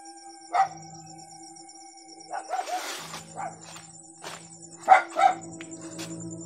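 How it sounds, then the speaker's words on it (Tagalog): Dog barking at night, a few spaced sharp barks with a brief yelp-like cry, mid-distance over faint steady insect and background hum. "Sumisigaw yung aso"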